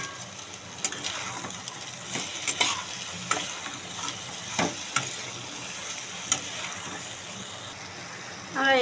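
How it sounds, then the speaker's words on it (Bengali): Soybean chunks and potatoes sautéing in a pan, a close, continuous sizzle and frying crackle with repeated scraping stirs and a few sharper clicks of the utensil against the pan. "5-6 মিনিট একটু সয়াবিনটাকে আমরা কষে নেব"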